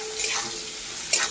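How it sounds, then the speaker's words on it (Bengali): Chopped onion hits hot oil in a pan while making a snake-bean chop, a constant bright sizzle with a couple of brief stirring scrapes, close and fairly loud, no voices. "এবার তেল গরম হয়ে গেছে, এর মধ্যে দিয়ে দিচ্ছি কুচিয়ে রাখা পেঁয়াজ"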